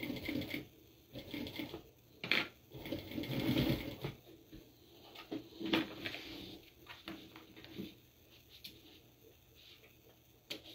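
A sewing machine top stitches a small Pokémon-inspired mini backpack in short, quiet, stop-start bursts of rapid needle chatter, with soft handling noises between runs.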